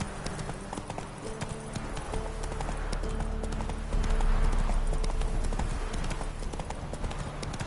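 Horse hoofbeats clip-clop in a steady galloping rhythm from a ridden horse in The Witcher video game, loud and continuous throughout, with faint background ambience.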